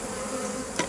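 Honeybees from a populous hive buzz in a steady, dense drone close by, with a brief louder swell near the end.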